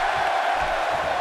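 An arena crowd in the WWE 2K16 wrestling video game roars steadily in a Dallas, Texas setting, a dense, continuous cheer with no clear breaks.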